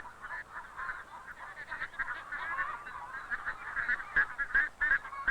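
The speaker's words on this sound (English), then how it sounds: "It was their pet duck that they had entered in the fair." A pet duck kept at a fair poultry exhibit gives repeated honking calls, steady and close, growing louder and denser toward the end with no talking.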